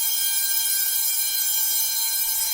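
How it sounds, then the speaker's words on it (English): A high school fire alarm sounds a loud, continuous electronic buzz with a harsh, steady tone that fills the space, with no voices over it. "Yes, that is a fire alarm."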